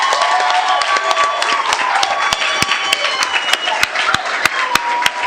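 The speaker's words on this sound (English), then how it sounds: "So big round of applause to these young girls." An audience at a city council meeting applauds a girls' youth sports team, with sharp individual claps standing out over a steady, close wash of clapping and murmuring crowd.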